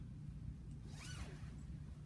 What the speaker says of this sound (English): just grab it by that loop. Unzip it that way,